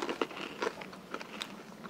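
Crunchy Honey Graham M&M's candy bitten and chewed up close, giving a series of sharp, crackly crunches with no talking.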